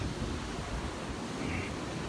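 Strong surf rolls onto Deerfield Beach, Florida, in a steady, broadband wash of breaking waves, with some wind noise mixed in and no clear speech.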